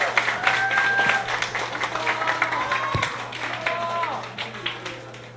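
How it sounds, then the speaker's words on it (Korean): A church assembly claps to welcome the parish council president and vice president, a loud burst of crowd applause that slowly thins and fades, with some tonal sound running beneath it. "모실 때 큰 박수 부탁드립니다"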